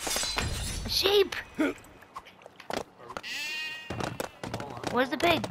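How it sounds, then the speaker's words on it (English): Sheep bleat in the LEGO The Hobbit video game, short wavering cries mixed with crashing game effects, while players talk and exclaim excitedly over the sounds. "Sheep!"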